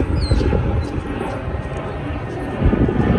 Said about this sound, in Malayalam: ഇടയ്ക്കിടയ്ക്ക് ഇങ്ങനെ വിമാനം പോകുന്നുണ്ട് കണ്ടോ